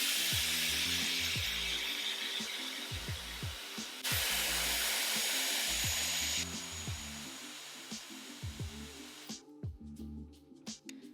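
A Dyson Airwrap hair dryer set to hot heat with a medium fan gives a steady, close airflow roar that dips and resumes between passes, with light handling knocks near the end.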